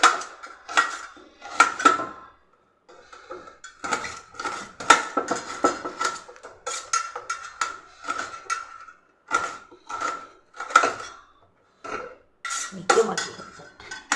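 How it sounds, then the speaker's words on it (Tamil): A knife chops onions on a cutting board while a tomato kuzhambu gravy is being prepared, giving a steady series of close, crisp taps and clinks with brief pauses and no talking. "இந்த வெங்காயத்தை வெட்டிக்கலாம்."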